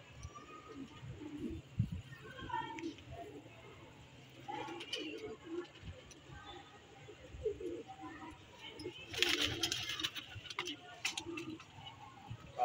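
Soft pigeon cooing rises and falls through a quiet backdrop, with faint voices and scattered rustles, and a louder burst of fluttering or clatter midway, during pigeon-keeping preparations for a kabootar tournament.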